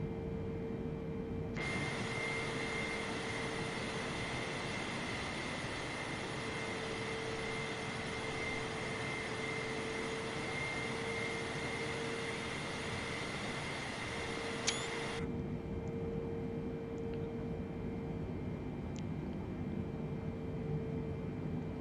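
Atlas Air Boeing 747 cruising in Microsoft Flight Simulator 2020, a steady broadband engine and airflow roar with a constant tonal hum that falls quieter near the end, with no speech.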